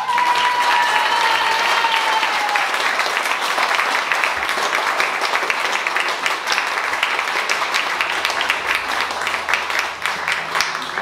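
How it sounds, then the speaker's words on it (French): Sustained, energetic applause from a concert audience in a French venue, a thick continuous roar of clapping hands lasting about eleven seconds, with a faint whistle or tone early on. "Je vous demande d'applaudir de toutes vos forces"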